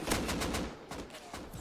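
Rapid bursts of gunfire in the survival game Rust crackle in quick succession, a short dense volley of shots with no voices over it.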